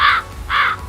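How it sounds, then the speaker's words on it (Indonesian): A crow caws twice in quick succession, loud and close, with a steady low background hum underneath. "Ada suara burung gagak."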